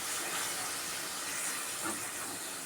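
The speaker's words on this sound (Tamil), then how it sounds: "வெங்காயம் நல்லா வதங்கணும்." Onions sautéing in a pan for a Tamil onion thokku give off a steady, dense hiss of sizzling that holds even and unbroken throughout, close and moderately loud, with no voices over it.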